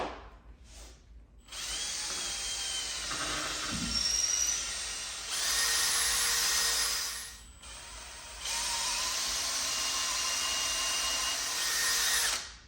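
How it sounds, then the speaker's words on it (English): A 1/8 inch bit drilling through a wooden newel post, a high steady whine from the power drill in three long sustained runs with brief pauses between them, close and loud. "1/8 inch drill bit right on these marks"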